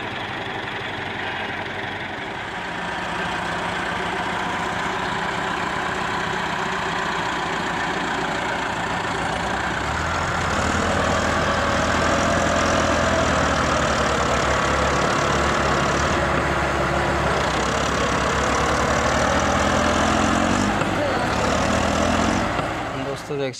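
Millat and Perkins 375 tractors straining to pull a trolley stuck in mud, a steady loud diesel engine drone that revs harder midway, with voices talking over it.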